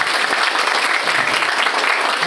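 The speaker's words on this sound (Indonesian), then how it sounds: "Tepuk tangan buat MC-nya." An audience at a motivational event in a polytechnic campus hall claps in a dense, steady burst of applause for the master of ceremonies, loud and close throughout.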